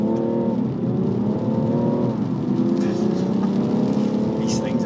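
An Alpina D3 S diesel car accelerates flat out, engine droning loud and close, its pitch climbing through the gears with brief dips at each shift, heard from inside the car.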